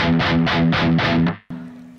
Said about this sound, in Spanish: vamos a aprender la distorsión y hacer un poco de palm mute